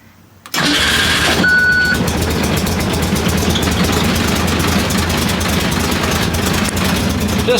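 A Ford Pinto race car's 2.3 engine cranks after a quiet moment, then catches and settles into a loud, steady, rumbling idle, close by.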